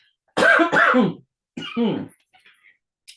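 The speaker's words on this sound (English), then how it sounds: "I'm just gonna give it a minute because I'm about to have a little coughing fit." Several harsh coughs in two quick bursts, close and loud, separated by a short pause, followed by faint breaths.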